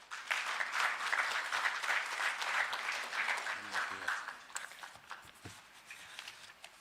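Audience applause fills a business ecosystem summit hall in Kisumu, a sustained, fairly loud wash of clapping that begins at once and carries for several seconds before thinning out, with scattered individual claps and some shuffling near the end.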